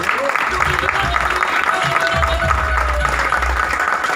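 Audience applause welcoming a speaker onto the stage at an event in Manali, a steady dense clapping that fills the whole stretch at close range, with a crowd murmur underneath.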